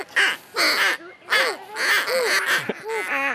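Air blown through a hunting call gives a run of harsh, crow-like caws, about seven bursts in an uneven rhythm, loud and close, with no talk over them.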